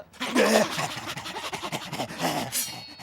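Cartoon dogs pant and whimper in an animated episode, heavy breathy panting running throughout with short whines, close and fairly loud, and a brief bright squeal near the end.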